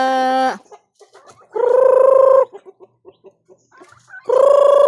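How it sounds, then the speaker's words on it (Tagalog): Large chickens on an organic farm, a big hen and a rooster, give loud close calls: drawn-out, strained squawks in three bursts separated by softer, quick clucks. "Ang laking manok."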